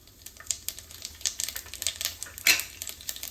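Rapid, irregular pops and crackles of mustard seeds spluttering in hot oil with cumin, close and fairly loud, with one sharper burst midway.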